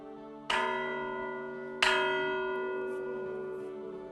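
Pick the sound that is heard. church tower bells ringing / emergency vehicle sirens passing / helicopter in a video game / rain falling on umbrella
church tower bells ringing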